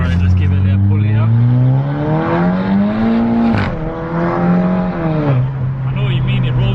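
A Volkswagen Golf GTI pulls hard through its gears, engine note climbing steadily, dipping briefly at each upshift, then rising again, loud and close throughout with voices talking over it.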